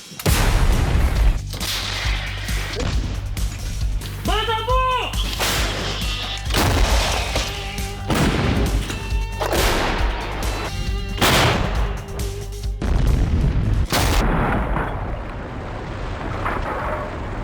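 Heavy artillery gun reports boom out repeatedly at irregular intervals, loud and sharp, with a rumbling mechanical background between shots.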